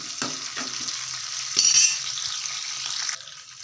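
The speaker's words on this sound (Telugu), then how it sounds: "కరివేపాకు వేసుకొని ఒకసారి బాగా కలిపేసుకుందాం" Curry leaves sizzle in hot oil while being stirred, a loud, close hiss that swells briefly into a sharper burst midway, with a few scraping stir strokes early on before the sizzle drops off near the end.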